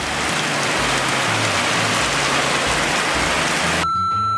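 Steady rain falls in Gelibolu on a wet day, a dense, loud hiss of drops hitting surfaces that continues without a break.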